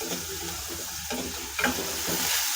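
Asafoetida hits hot oil beside onions being sautéed for a dry kidney bean dish, giving a steady close sizzle with soft stirring scrapes and a brief louder crackle midway. No speech.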